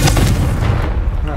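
A Confringo spell explodes in the video game Hogwarts Legacy, a loud close blast at the start followed by a decaying rumble over about a second, with a voice mixed in.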